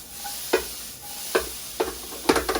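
Mushrooms sautéing over high heat in a pan, a soft sizzle broken by several sharp spatula scrapes and clacks in quick succession, close and without voices.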